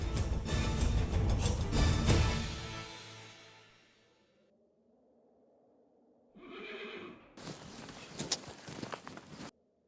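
A mare neighs loudly in a period drama scene, then the sound fades to near silence before a burst of hoof clatter and movement.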